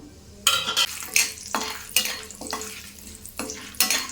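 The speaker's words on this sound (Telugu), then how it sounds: "ఫస్ట్ బిర్యానీ మసాలాలు వేసేసుకుంటాను" Biryani spices frying in melted ghee for egg dum biryani, with a series of sharp sizzling bursts as the pan is stirred, each rising and fading in an uneven rhythm, close and moderately loud with no talking.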